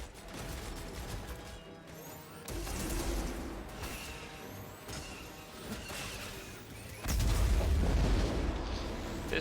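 Grenade blasts from the video game Jedi Fallen Order: repeated booming explosions with crashing debris, the loudest burst near the end, over a steady bed of game combat noise.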